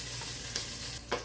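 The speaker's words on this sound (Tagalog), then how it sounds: "Uugayin natin muna para maluto ang garlic" Garlic sautéing in a pan for Filipino ginisang monggo with pork, a brief burst of dense, close sizzling with a couple of small stirring clicks, no speech.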